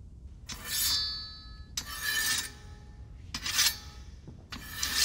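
A blade is sharpened in four separate rasping strokes, each a bright scraping rub lasting about a second with ringing metallic overtones, close and moderately loud.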